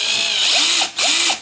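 A drill press spins a robot rover wheel with a loud, steady mechanical whir, dipping briefly in level near the end of the short run.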